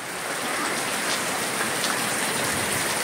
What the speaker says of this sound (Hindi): आज हमारे गाँव में एकदम झोर झोर के पानी गिरा